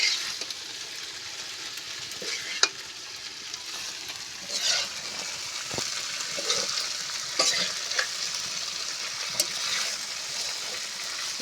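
Rohu fish and Malabar spinach cook in a pan with a soft, steady sizzle, punctuated by occasional sharp clicks and scrapes of a spatula, fairly quiet and close, with no voices.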